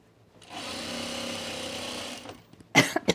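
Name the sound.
sewing machine stitching the center back seam of a coat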